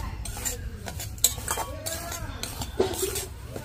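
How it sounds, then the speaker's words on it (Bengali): A spatula stirs semolina nonstop in a kadai for a sweet barfi, giving soft scraping strokes and light metallic clinks in an irregular rhythm, close and fairly quiet. "কড়াইয়ে সুজিটা দিয়ে এইভাবে অনবরত নাড়তে থাকতে হবে"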